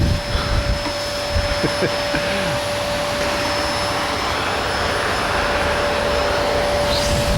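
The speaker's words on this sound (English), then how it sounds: "A little last minute vacuum cleaning." A vacuum cleaner runs continuously with a steady whine and broad roar, close by, cleaning out a concrete retaining wall form before a pour, with a few faint voices at the start.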